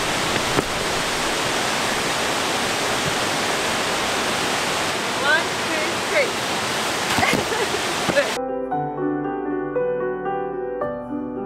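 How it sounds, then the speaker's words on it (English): Bald River Falls waterfall in Tellico Plains, Tennessee, a steady broad roar of heavy falling water heard up close; music takes over near the end. "let's stop to take a picture with the waterfalls"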